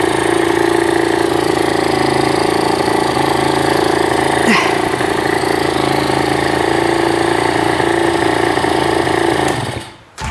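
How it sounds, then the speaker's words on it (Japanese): A restored Aprilia Classic 50 motorcycle engine, freshly rebuilt with a new piston and a cleaned carburetor, idles with a steady, loud buzz for about ten seconds before cutting out abruptly at the end. "アプリリアのエンジンかかりました"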